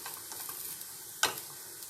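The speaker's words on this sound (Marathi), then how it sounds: "आता इथे आपल्या भाज्या शिजल्यात व्यवस्थित, जवळजवळ 5-6 मिनिटं तुम्ही परतत राहायचंय" Vegetables for veg fried rice stir-fried in a pan, a steady soft sizzle with light scraping of the spatula and one sharper clatter partway through, no talking.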